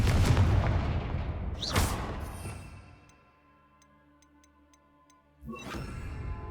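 A Confringo fire spell cast in Hogwarts Legacy on PS5 lands as a loud explosive burst near the start. A second blast follows about a second and a half later. The sound then fades to quiet ticking before a final boom.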